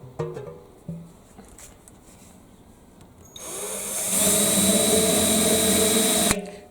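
A power drill bores holes in old junk for a bug hotel in a kitchen garden: after a quiet stretch with small knocks, the motor spins up into a steady, close, high whine for about three seconds, then cuts off abruptly.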